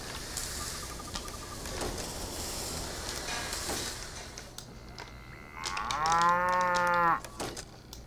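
Cattle low at a ranch in the railway building game Railway Empire: faint distant moos early on, then one loud, drawn-out moo near the end over a soft ambient background.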